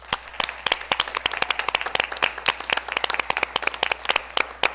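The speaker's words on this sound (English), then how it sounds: "Round of applause." Applause at a school board meeting as a staff member is honored, a small group clapping in sharp, irregular claps close by, loud and uneven, with no talk.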